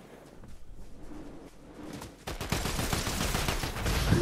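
Gunfire in Fortnite, first faint scattered shots, then a loud sustained burst of rapid firing that keeps building toward the end.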